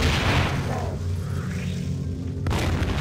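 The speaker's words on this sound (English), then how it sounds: "He's throwing grenades at me." Grenade explosions in System Shock 2 form a heavy, continuous booming rumble that fills the space, loud and close, swelling again sharply near the end.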